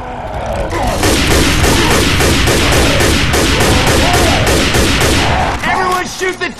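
Loud, sustained volley of gunfire in Left 4 Dead 2 as several players fire on the Tank at the Dark Carnival map, rapid shots rattling continuously for about five seconds before thinning out, with voices calling out at the end.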